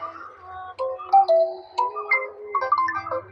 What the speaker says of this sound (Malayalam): എൻ്റെ എൻ്റെ ഫോണിലേക്ക് ഞാൻ ഒരു കോൾ കൊടുക്കാം